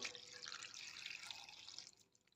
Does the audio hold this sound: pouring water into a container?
yes